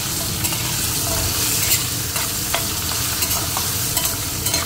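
Taro pieces with a little sliced onion frying in a pan, a steady close sizzle with spatula stirring scrapes throughout, no voices.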